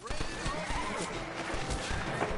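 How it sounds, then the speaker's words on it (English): Horses in a western-style video game whinny and snort amid a dense, noisy scene, with hoof clatter and a voice speaking over them. "Get away from them horses."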